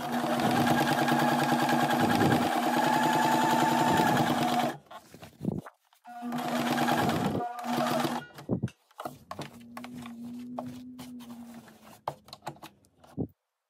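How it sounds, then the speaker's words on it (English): A domestic sewing machine runs in bursts while back stitching the bottom of a patch pocket, a loud, rapid mechanical whir that stops and restarts several times, with short pauses and clicks between the runs. "I will also do back stitching at this point to reinforce the bottom line."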